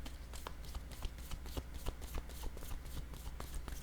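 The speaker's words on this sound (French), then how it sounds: "Quand je fais des bruits comme ça, des petits coups sur les cartes, c'est pour recentrer mon attention." Light, quick taps on tarot cards, a steady run of small crisp clicks and shuffling sounds, close and soft, with no voice.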